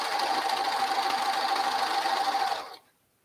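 A sewing machine runs steadily and close, stitching straight down a fabric headband with a fast, even mechanical whir, then stops abruptly near the end.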